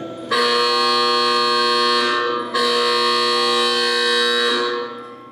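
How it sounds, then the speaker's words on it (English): An electric buzzer in an old asylum building blares in two long, loud, steady tones separated by a brief break, droning harshly and evenly before fading out. "Now, can you hear that buzzer outside?"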